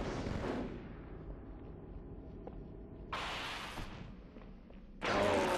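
In a Halo match, a bomb drop sets off a loud opening blast that rumbles away into a low, fading tail, followed by two more sharp, broadband bursts at intervals.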